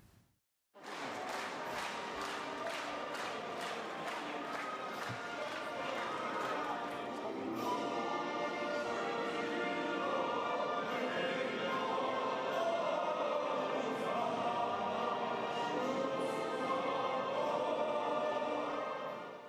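Ukrainian parliament deputies applaud the new Constitution of Ukraine on 28 June 1996, opening with rhythmic unison clapping that gives way to sustained, dense applause filling the hall.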